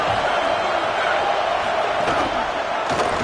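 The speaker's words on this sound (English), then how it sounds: "The Tide crowd rolling noise down onto Saban Field on third down." A packed college football stadium crowd at Saban Field roars on third down, a dense, continuous wall of noise with no let-up and no voices standing out.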